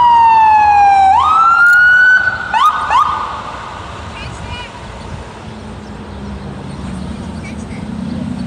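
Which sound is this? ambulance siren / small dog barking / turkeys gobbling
ambulance siren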